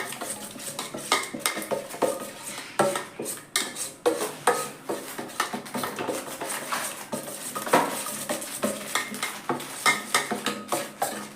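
Chilli chicken ingredients are mixed in a bowl, with a spoon scraping and clinking against the dish in a steady run of busy stirring strokes, loud and close, with no talking.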